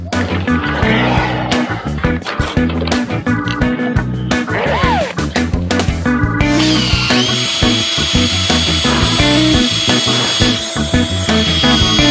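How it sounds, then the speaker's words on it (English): A power drill drives a screw into a wind instrument mount on a 37-year-old sailboat, loud and close, with a continuous whirring whine, a pitch change partway, and a steady high tone afterward. "he changes the bit so he can drive a screw into the mount before repeating the same process for the second, third, and fourth holes and screws"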